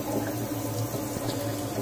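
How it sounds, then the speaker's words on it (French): Water runs from the spray head of a kitchen faucet in a steady, close hiss of liquid that continues without a break and without talk. "Donc là on a un premier jet comme ça, une petite douchette."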